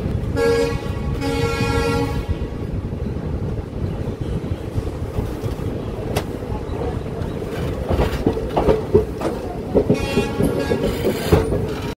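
A train stands at platform 1 of a railway station. Sustained horn tones sound at the start, followed by a continuous rumble and scattered metallic clanks and knocks that grow busier toward the end.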